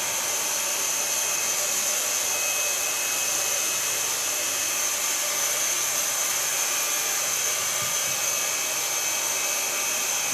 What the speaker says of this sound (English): Most people love it when you blow dry with the fingers.